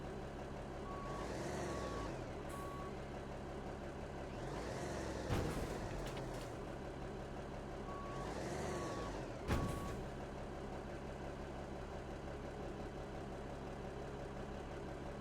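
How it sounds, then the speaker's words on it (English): A truck backing up repeatedly while stuck, its reversing alarm beeping in steady bursts over a low idling diesel engine, with sharp hisses of air brakes releasing at intervals; no one speaks. "I still don't understand why this truck can't get out of there."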